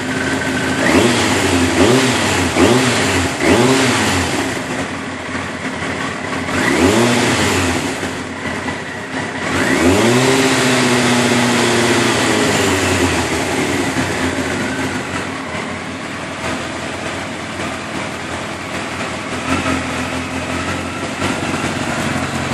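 An engine with water in the oil runs, rising and falling in repeated revs with rough, droning roar and a long sweep near the middle, then settling into a steady hum; loud and close throughout.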